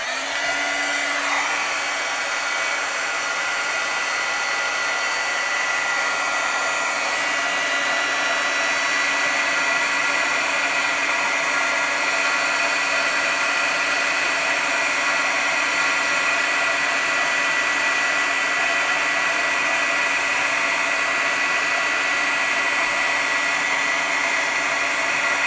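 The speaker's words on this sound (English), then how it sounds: "Okay, heat up my heat gun a little bit." A heat gun melting embossing powder runs continuously at close range, a steady whooshing blower hiss with a constant motor whine that holds unbroken for the full length.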